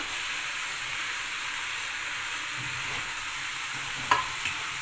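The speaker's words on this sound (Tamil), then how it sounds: "போட்டு நல்லா கிளறணும்." Mashed potato is stirred into masala frying in a pan for a potato kuruma. A steady, loud sizzle and hiss carries throughout, with a brief scrape of the spoon near the end and no talking.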